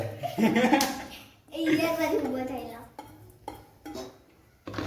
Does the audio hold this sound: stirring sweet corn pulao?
yes